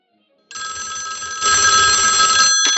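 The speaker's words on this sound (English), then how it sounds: "Jimmy, what the hell do you think you're doing ringing me at my house?" A telephone rings loudly in a house with a steady, continuous bell tone that starts abruptly and swells in strength partway through, close by.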